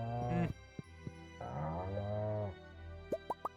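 Cows moo in the farming game Stardew Valley as synthesized, low, drawn-out calls, followed by a few short rising plop-like game effects over a continuous music bed.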